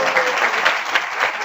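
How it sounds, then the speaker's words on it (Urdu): A church congregation claps together in steady, dense applause that fills the whole short moment. "تھوڑی سی تالیاں ذرا اپنے لیے بھی بجا لیں."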